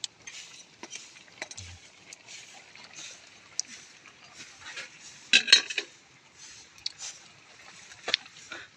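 Cooked food is scooped out of a pan, with light metallic clinks and scrapes of a utensil against cookware, sparse and fairly close, over a quiet background.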